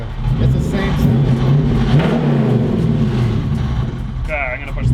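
A supercharged 1UZ V8 in a drift truck runs loud and steady, swelling as it revs with a whining overtone. Voices talk over the engine throughout.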